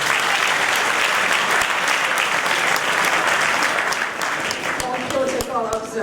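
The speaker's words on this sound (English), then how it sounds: "Please give her a round of applause." An audience at a town hall meeting in Queens, New York applauds loudly and continuously, a dense wash of clapping that thins slightly toward the end.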